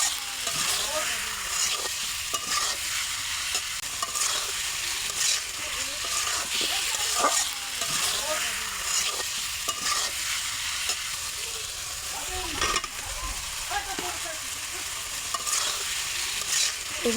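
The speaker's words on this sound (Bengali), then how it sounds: "এবার সিদ্ধ করা কচু দিয়ে কিছুক্ষণ কষিয়ে নেব।" Boiled taro stir-fried in a cooked spice masala for a fish curry: a steady close sizzle with repeated spatula scrapes and stirring strokes throughout, no voices.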